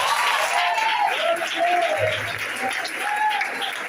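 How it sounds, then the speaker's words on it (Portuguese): A church congregation breaks into sustained applause, dense and continuous throughout with no speech over it, in an echoing worship hall. "Vamos receber o vosso com palmas e glória a Deus."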